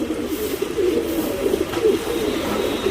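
Tournament-bred pigeons in Bangalore coo steadily, a low, throaty burbling that repeats in soft overlapping phrases, close by and heard alone without talk.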